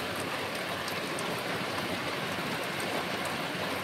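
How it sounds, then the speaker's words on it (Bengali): Heavy rain pours steadily through the night, a dense, unbroken hiss that stays loud and even from start to finish with no voices. "আজকে রাতে এরকম হঠাৎ করে বৃষ্টি হচ্ছিলো"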